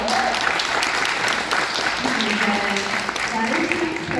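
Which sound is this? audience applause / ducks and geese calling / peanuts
audience applause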